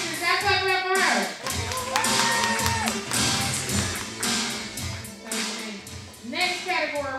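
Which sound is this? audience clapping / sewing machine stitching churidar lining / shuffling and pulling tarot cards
audience clapping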